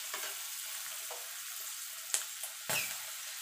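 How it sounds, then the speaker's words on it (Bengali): Pointed gourd fries lightly in oil, making a soft, faint hiss with a few quiet clicks and two sharper utensil scrapes toward the end, heard alone without talk. "এবার একটুখানি হালকা করে ভেজে নেব।"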